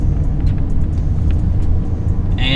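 A BMW fitted with a Burger Motorsports pedal tuner pulls in third gear on a cold engine, giving a loud, steady low engine drone with a brief higher whine near the end.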